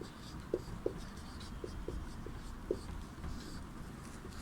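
Chalk or marker scratching on a board in a classroom Sanskrit lesson, a handful of short separate strokes spaced over several seconds against a low room hum.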